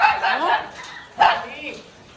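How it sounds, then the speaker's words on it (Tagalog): A house's dogs bark in two sharp, fairly close bursts, one at the start and another about a second later, with some yipping; no one speaks. "Ayan yung mga aso ng utol ko."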